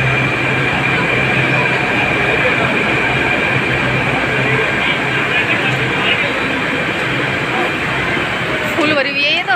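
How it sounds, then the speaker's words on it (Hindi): A metro train stands at Sarita Vihar station in heavy rain, giving off a loud, steady hum and rush that continues throughout. A voice talks over it, and there is a brief squeal near the end. "मेट्रो आ चुकी है, इसमें हम बैठेंगे।"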